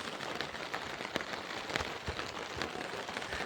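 Rain falls steadily during cast-net fishing, a soft, even patter on surfaces with scattered sharper drops, heard faintly and without voices.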